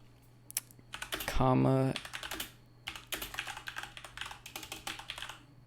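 A loud computer keyboard clatters with rapid, uneven bursts of keystrokes while code is typed. One heavier clack stands out amid the steady close-up tapping, and someone speaks briefly over it.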